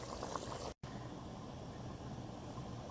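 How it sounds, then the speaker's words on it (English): Achar gosht meat simmers on high heat in a lidded pot, a steady soft bubbling hiss broken once by a brief gap, with no voices. "Meat's been cooking for another 20 minutes at this point on high with the lid on."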